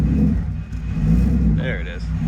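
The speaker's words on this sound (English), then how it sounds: "Gotta blip the revs to get the alternator going." An LBZ Duramax diesel engine swapped into a Suburban, hooked to a trailer, rumbles with a deep low drone and a brief rev blip lasting a couple of seconds.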